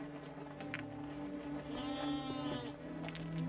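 A less-than-week-old bighorn sheep lamb bleats from a narrow cliff ledge, a few faint, wavering cries heard over a quiet outdoor background.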